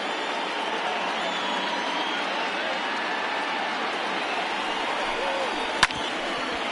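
Steady roar of a stadium crowd of over 38,000 on their feet in an MLB The Show 20 baseball game, Giants at Rockies, a continuous wash of cheering with a brief sharp crack near the end.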